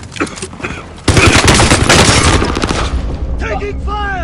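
Video game gunfire, with a quieter opening and then a loud sustained burst of rapid automatic shots and booms that gradually fades, with voices talking at the start and end.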